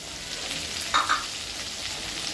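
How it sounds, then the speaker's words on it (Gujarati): Green chillies frying in hot oil for a Gujarati besan mirch dish give a soft, even sizzle up close, with one brief spatter burst near the middle of a short stretch. "મરચાં નાખ્યા બાદ આપણે એને 1 થી 2 મિનિટ માટે સારી રીતે તેલમાં વઘારી લઈશું"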